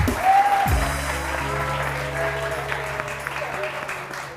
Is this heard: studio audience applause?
yes